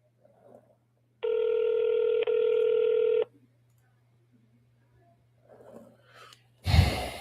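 An outgoing telephone call gives one long ringback tone of about two seconds with a brief dropout in the middle. Quiet breathing comes before and after it, and the clip ends in a loud rustling burst.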